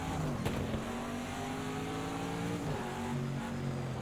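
An IMSA GTD Pro race car held at full throttle on the Indianapolis road course, its engine a loud, steady, high-revving drone with continuous harmonics and a brief gear-shift dip near the end.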